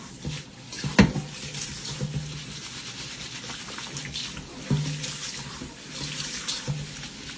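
Tap water runs into a sink while rice is washed, a steady splashing stream with a few sharper knocks and clatters of the pot, fairly close and moderately quiet.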